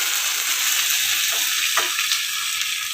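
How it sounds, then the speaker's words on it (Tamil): Ground coconut paste for chutney goes into a pan of frying onions, giving a continuous bright sizzle with a couple of soft scraping sweeps partway through. "இப்போது இதை அரைச்சி வச்சுருக்க வெங்காயத்தில் கொட்டிக்கலாம்."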